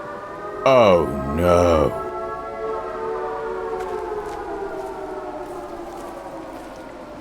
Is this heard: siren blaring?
yes